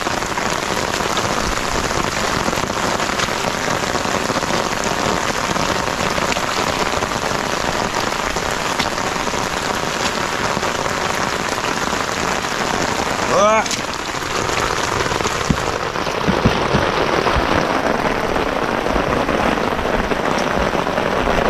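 Heavy rain pours down steadily over a field of bitter gourd (ampalaya) vines, a dense continuous hiss with drops drumming close by, broken briefly by a faint whistle-like sweep partway through and light handling noises near the end.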